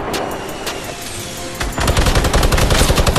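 Rapid automatic gunfire in the video game Fortnite, a loud continuous rattle of shots that intensifies partway through, with dense bursts filling the second half.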